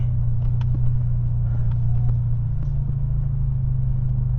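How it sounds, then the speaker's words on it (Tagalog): A car with a noisy exhaust drives through traffic, giving a steady loud low rumble throughout with faint passing sounds on top. "So medyo maingay yung exhaust natin"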